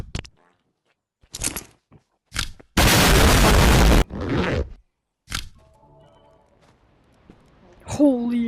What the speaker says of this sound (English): If I stick this piece of goop, there will be a big explosion.